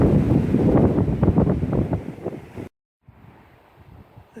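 Strong wind buffeting the microphone on a windy day out fishing, loud roaring gusts for a few seconds, then a brief cut and a quieter stretch of wind with no talking.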